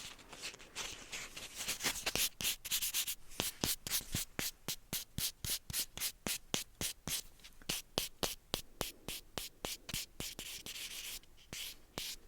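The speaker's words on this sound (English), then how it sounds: "Now I'm just going to go in and do the buffing, a little bit of buffing and a little bit of shining" A nail buffer rubs briskly across fingernails in a steady back-and-forth rhythm of quick, close, dry scratchy strokes. The strokes repeat evenly for the whole stretch, with no talking over them.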